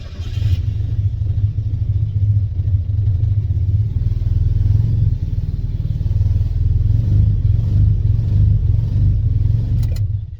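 A turbocharged 200 hp Mazda Miata with a faulty replacement ECU rumbles with a low, steady engine drone for about ten seconds before cutting off, loud and close with no voices.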